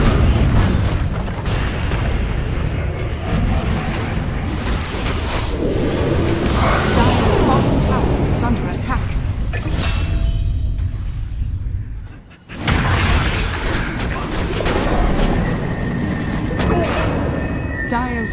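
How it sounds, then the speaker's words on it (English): Towers under attack in Dota 2: a dense, loud battle roar of booms, bursts and whooshes runs almost nonstop, with a brief drop near the middle before the clash resumes. "Dire's middle tower is under attack."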